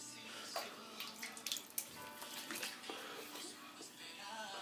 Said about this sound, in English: I don't know if you guys don't like the sound when the water comes on